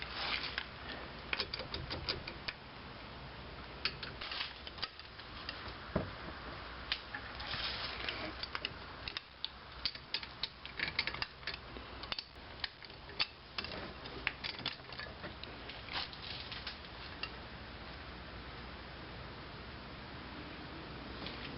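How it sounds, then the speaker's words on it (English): A ratchet wrench torques the brake bolts on a 2005 Scion tC, giving steady close clicking and mechanical clatter that runs continuously at a fairly quiet level. "you want to torque these down to about 30"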